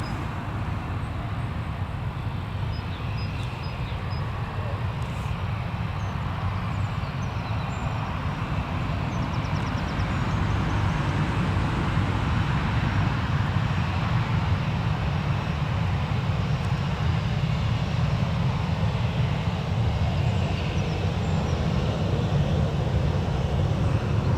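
Airplane rolling along the runway at Newcastle Airport, a steady, continuous low engine rumble with broadband roar lasting throughout, heard from some distance with no voices.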